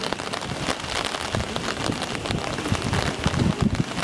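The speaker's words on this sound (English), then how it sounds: "The rain really making things tricky for these players out there." Steady rain falls during an outdoor polo match, a dense, continuous patter of drops on surfaces with no voices heard.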